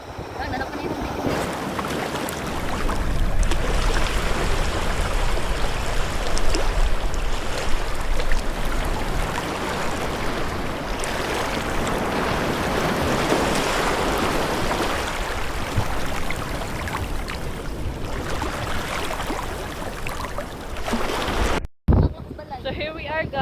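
Sea waves roll and wash against the shore, with strong wind buffeting the microphone. The roar stays broad and steady, swelling and receding, and voices talk faintly underneath.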